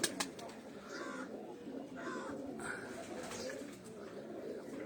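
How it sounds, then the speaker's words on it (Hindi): English pigeons cooing in a loft, repeated soft throaty calls over a steady bed of rustling and background noise, fairly faint and close. "ये अंग्रेज कबूतर है जी"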